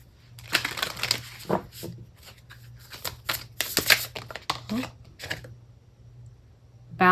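Moonology Oracle cards are shuffled close by in a series of quick papery riffles and soft flutters that come in bursts, with a low steady hum underneath.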